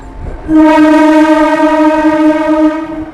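A new EMU local train on the Katwa–Barddhaman line sounds its horn in one long, loud, steady blast that starts after a brief moment of low rumble and holds for about two seconds before fading.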